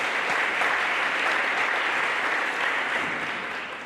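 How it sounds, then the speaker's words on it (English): A crowd at an athletics hall of fame induction ceremony claps in a steady, sustained round of applause that fades slightly toward the end. "So let's give John a round of applause."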